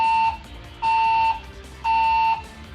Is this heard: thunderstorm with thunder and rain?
no